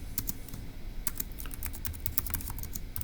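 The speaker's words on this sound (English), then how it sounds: "let's go ahead and type that up in our notes for section E" Steady keystrokes on a computer keyboard as notes are typed, a close run of quick clicks with short pauses and a low background hum, with no voices.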